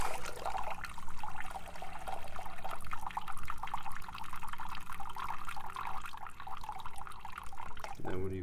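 Water dribbles and trickles steadily, with soft irregular drips and splashes heard close by, continuing throughout the clip.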